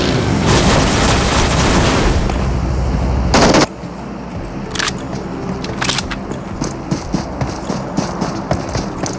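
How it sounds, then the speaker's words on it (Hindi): Gunfire in PUBG Mobile near a buggy: a loud, continuous automatic burst for several seconds, then scattered, more distant single shots over quieter ambient game sound. "तो सैम यहाँ पे बगी में और फायरिंग होती है"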